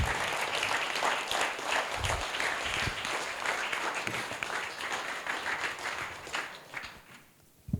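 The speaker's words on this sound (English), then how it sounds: "I think we all should just give them a round of applause" Wedding guests applaud the couple in a steady, dense round of clapping that fills the room for several seconds, then thins and fades near the end.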